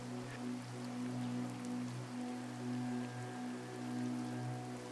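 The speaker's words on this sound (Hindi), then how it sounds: "बाहर मूसलाधार बारिश शुरू हो चुकी थी" Heavy rain pours steadily outside, a soft, even wash of drops with a faint low hum beneath, no voices present.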